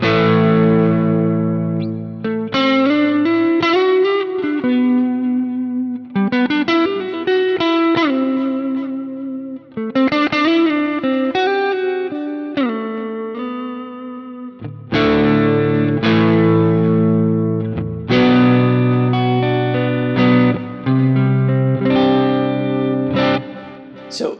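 Electric guitar through a Quad Cortex preset based on a plugin, with a shimmering chorus effect and light, low-gain overdrive, playing chords and melodic phrases with a touch of echo.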